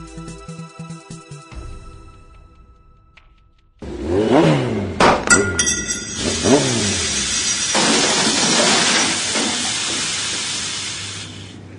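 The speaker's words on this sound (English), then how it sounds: "You get a new car, breaks down the middle of nowhere." A new car breaks down in the middle of nowhere: a faint rattling sputter, then a loud burst of hissing steam with several sharp knocks and clanks that settles into a long, steady hiss.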